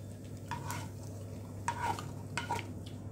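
Noodles and pepper stirred in a frying pan, with soft scraping strokes and sizzling at a steady, close range. Two or three louder utensil scrapes stand out above a constant low kitchen hum.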